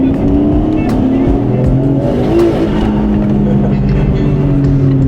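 A Nissan Skyline GT-R BNR32 with an HKS 2.8-litre stroker engine and a Trust T78 turbo is blipped and revved close by. It gives a loud, continuous, rising and falling engine roar, with people talking over it.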